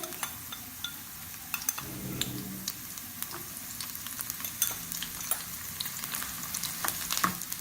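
Steady sizzling and crackling of chopped onion and garlic tempering in hot oil for dal, with occasional stirring clinks, close and continuous throughout.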